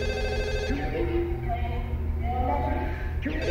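A telephone rings inside the video game Forbidden Siren 2, a steady electronic ringing tone that carries all the way through while someone talks over it.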